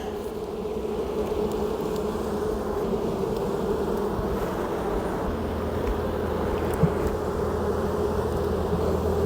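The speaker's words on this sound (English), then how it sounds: "these seem a little bit noisy, so I don't hear a low content hum in the hive" Honeybees humming inside a hive, a low, even drone that holds steady throughout, fairly loud and without speech.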